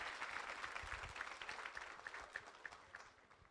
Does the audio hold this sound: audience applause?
yes